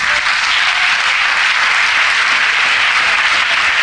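A church congregation claps loudly and continuously in a hall, a thick, unbroken roar of many hands at an even level throughout.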